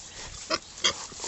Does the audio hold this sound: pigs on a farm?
yes